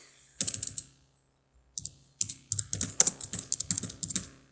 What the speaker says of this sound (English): you just go in and type over things